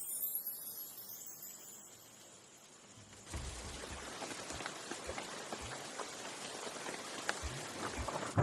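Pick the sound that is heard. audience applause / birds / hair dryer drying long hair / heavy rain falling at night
heavy rain falling at night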